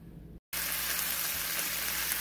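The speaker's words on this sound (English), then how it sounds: "I'm sauteing the seasoning here with a teaspoon of flour" Seasoning and a teaspoon of flour sautéing in olive oil for a sweet and sour pork gravy, a steady dense sizzle close by that breaks off briefly and then resumes unbroken.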